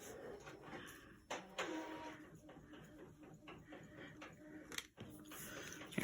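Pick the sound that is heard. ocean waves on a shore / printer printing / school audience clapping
printer printing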